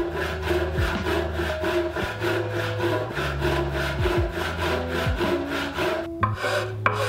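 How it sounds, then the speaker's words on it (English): Pull saw cutting through a wooden workpiece while building vinyl record storage, with steady back-and-forth rasping strokes in a regular rhythm, close and fairly loud, and no talking. "a good pull saw makes quick work of this"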